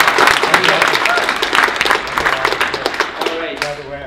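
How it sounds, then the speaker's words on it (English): Audience applauding a sales panel guest, steady dense clapping throughout with a few voices mixed in, loud and close. "So quick round of applause for David."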